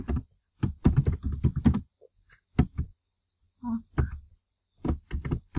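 Typing on a computer keyboard during an applied computing lab, short quick bursts of close, soft key clicks broken by pauses, with a brief murmur of speech between them.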